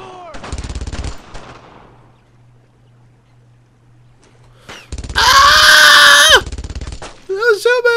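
Suppressing machine-gun fire in the WWII shooter Brothers In Arms: Road to Hill 30 comes in two loud rattling bursts, a short one first and then a longer, heavier one, with quiet gaps and whistling tones toward the end.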